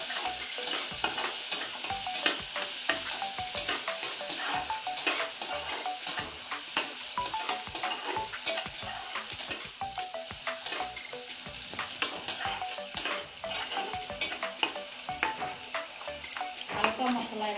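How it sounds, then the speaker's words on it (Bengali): Chopped onions fry in hot oil in a home kitchen pan while being stirred, a continuous close sizzle broken by frequent sharp scraping and clicking strokes of the spoon, no talk. "এখানে আছে কুচি করে রাখা পেঁয়াজ, এটা দিয়ে দিচ্ছি তেলের উপরে।"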